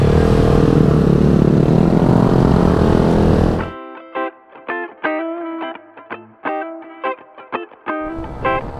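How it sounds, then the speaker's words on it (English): A motorcycle doing a burnout gives a loud, continuous engine roar with hissing tire noise for almost four seconds, then cuts off abruptly into choppy, stuttering electronic-sounding bursts. "He's going to do a burnout."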